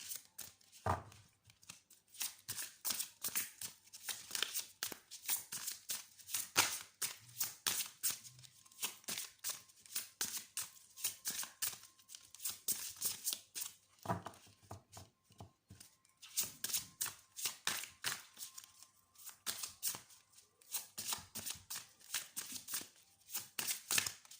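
Oracle cards being shuffled by hand, quick bursts of crisp riffling and flicking repeated in irregular clusters with short pauses between, close and fairly soft, no voices.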